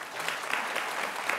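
Dense, even applause from a live audience at a talk with Utah Governor Spencer Cox, a brief continuous wash of many hands clapping at steady volume.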